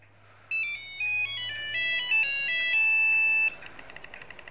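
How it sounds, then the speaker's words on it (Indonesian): A bright Nokia 8310 phone ringtone plays the Nokia Tune as a series of clean synthesized tones, fairly loud, followed by a few fading echoing notes. "ya kira-kira kayak gitu aja sih untuk ringtone-nya. Ini untuk Nokia Tune-nya."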